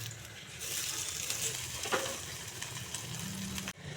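Chopped onions fry in mustard oil in a wok for a taro mash, giving a steady close sizzle with soft stirring scrapes throughout.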